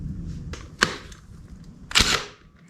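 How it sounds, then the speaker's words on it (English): Wrench work on the cam chain tensioner bolt of a 1985 Yamaha engine during a teardown, with a couple of sharp metallic clicks and a louder clanking rattle over quiet shop background. "now we're gonna take off this cam chain tensioner bolt here"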